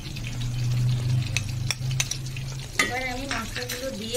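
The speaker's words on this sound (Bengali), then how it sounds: "এবার আমি মশলাগুলো দিয়ে ভালো করে নেড়ে চেড়ে নেব" Spices such as garlic paste, Kashmiri chilli powder, biryani masala and garam masala being stirred in a hot frying pan, a strong steady sizzle with a few scraping strokes of the spoon, followed by a burst of bubbling.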